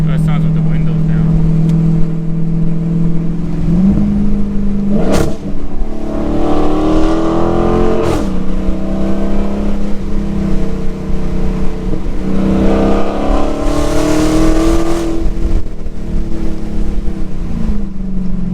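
A 2020 Dodge Challenger Hellcat with its mid muffler deleted, windows down, revs its exhaust several times in loud, close sweeps that rise and fall over a constant rumbling idle.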